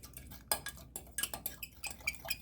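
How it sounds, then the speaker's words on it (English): A spoon stirs food coloring into a coconut roll mixture, making quick, close clinks and scrapes against the bowl in an uneven, busy rhythm. "And we're going to stir"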